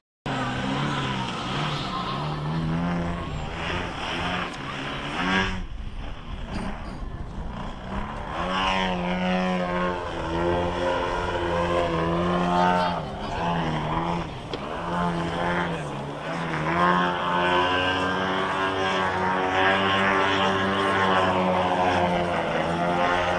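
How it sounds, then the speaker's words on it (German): A model aircraft's radial engine drones continuously with a throaty, shifting pitch as it throttles up and down, steady and fairly close throughout, at a model flying show. "Man hört das auch sehr schön, was da drin als Motor ist. Es ist nämlich ein Sternmotor."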